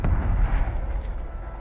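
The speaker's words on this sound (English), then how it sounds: "Found the mortar strike." Heavy booming mortar-strike explosions in the shooter Warzone, a deep, rumbling blast at the start that rolls and fades into a low, lingering roar.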